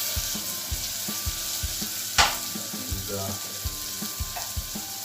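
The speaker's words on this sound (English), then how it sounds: "fry it a little bit along with the tomato" Tomatoes fry in a pan with a steady close sizzle and a few taps of a stirring spoon, plus one sharp hiss midway; a voice says a single word briefly.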